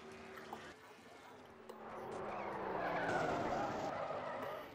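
A stock car in an NNSCRA racing sim, driver Paul Minnick's number 90 Ford, loses grip in turns one and two and spins, its engine hum swelling into a long, loud broadband tire skid that peaks midway and slowly fades.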